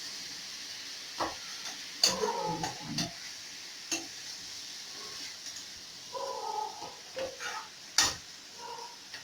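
Cauliflower with turmeric powder being stirred in a frying pan, giving scattered scraping and clinking strokes with a soft sizzle beneath, close and moderately loud with pauses between bursts.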